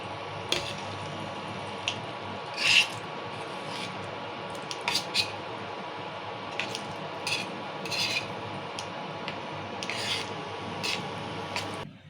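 Coriander leaves being stirred through an egg masala curry with green chilli paste, made with onions and fenugreek: soft wet scraping and squelching strokes, several distinct swishes spaced over steady kitchen background hum, no voices.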